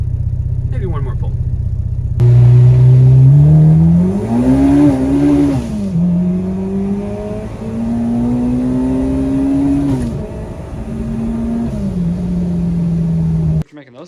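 A K-swapped Mini Cooper engine revs hard and close through a pull, its pitch climbing, dipping and holding in a loud steady drone before cutting off abruptly near the end.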